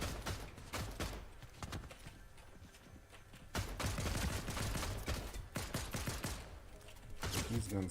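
Video game gunfire in rapid, dense bursts, loud and nearly continuous, with a brief lull in the middle before the shooting picks up again. No voices.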